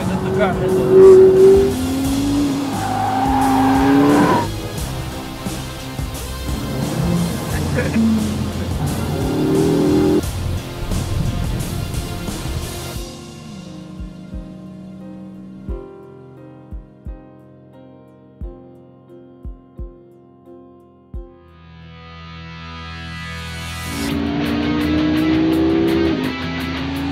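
McLaren MP4-12C sports car engine droning and shifting loudly under music, then a quieter stretch of isolated thumps before the engine swells back up.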